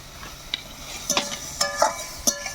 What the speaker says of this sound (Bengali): উচ্ছে ভাজা চলছে